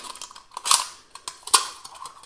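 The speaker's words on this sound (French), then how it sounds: "On vient découper la canette." Ordinary scissors snip through an aluminium drink can being cut apart to make a hiker's alcohol stove, giving two sharp, close metallic cuts with a few lighter snips between them.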